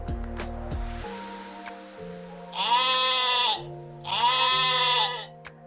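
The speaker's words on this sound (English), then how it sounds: "Bleated the sheep." An animated sheep bleats twice in clear, wavering calls of about a second each, over a soft musical background in a children's read-aloud.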